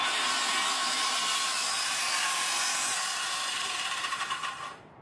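A Skil circular saw whines steadily and loudly through a plunge cut, a dense high-pitched motor roar that holds for several seconds before spinning down and fading at the end.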